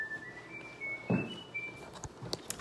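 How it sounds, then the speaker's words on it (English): Phone ringtone playing an Irish whistle tune, a thin, clear whistle melody stepping between notes, with a few faint footsteps and knocks around it. "that's my husband's phone, the Irish whistle"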